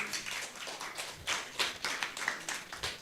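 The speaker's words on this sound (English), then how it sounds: "Are you ready to applaud the winners?" A small gathering at a Christmas startup competition claps for the winners, a thin, uneven patter of hands with distinct individual claps, fairly quiet and close, without voices.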